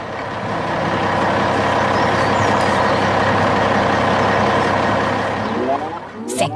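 A loaded green truck's engine runs in a heavy-equipment video game, a steady, loud diesel rumble that continues throughout and then trails off near the end.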